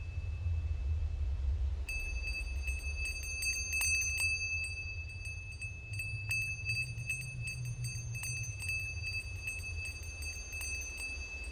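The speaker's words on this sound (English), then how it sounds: "I suppose the ringing of the bell will let us know soon enough." A thin, high bell tone rings steadily with light tinkling strikes over a low rumbling background, fairly faint.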